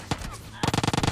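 Automatic gunfire from another player in PUBG Lite squad gameplay: one sharp shot, then a fast steady burst of about ten loud, close rounds at the end.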